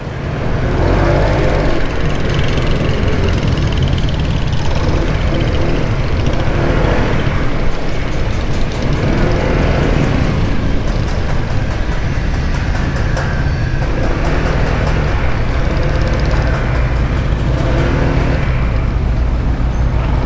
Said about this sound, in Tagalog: Talagang siksikan yung traffic